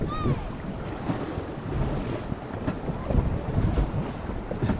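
A dinghy speedboat's engine runs at sea, its drone largely buried under heavy wind buffeting on the microphone and splashing water, with a brief high whine at the start.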